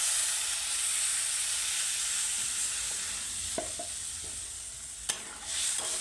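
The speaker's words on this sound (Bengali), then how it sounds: "এখন এই যে জলটা ঢেলে দিচ্ছি।" Water poured into a pan of frying pumpkin curry tempered with cumin, salt, turmeric and green chilli, giving a steady close hiss and sizzle throughout with a few soft clinks of utensils near the end.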